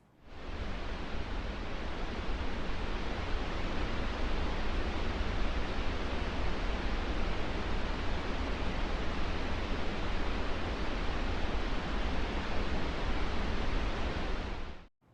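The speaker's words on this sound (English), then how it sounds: "there is one noise color which has become an unlikely hit, and that is pink noise." Steady pink noise hisses evenly for about fifteen seconds, a soft, continuous wash like light rain or rustling leaves, with no breaks and no voices.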